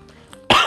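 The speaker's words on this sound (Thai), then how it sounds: "ไอกระแอมไอนิดหน่อยหน่อย" One abrupt, close cough bursting out after a brief quiet moment, with a rough throat-clearing quality.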